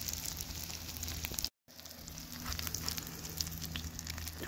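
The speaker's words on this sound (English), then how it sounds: "I'm gonna put some bacon grease in there and we'll cook up those eggs" Steady crackling sizzle of eggs frying in bacon grease in a cast iron pan, a continuous bright hiss with small pops, briefly cutting out for a moment partway through.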